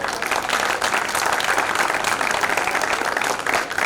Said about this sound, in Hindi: अभिषेक जी के हिस्से की तालियां वापस कर दी जाए